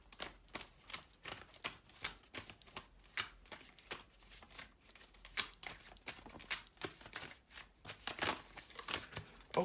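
Moonology Oracle cards being shuffled, soft irregular riffling and flicking close by, fairly quiet, with no talking.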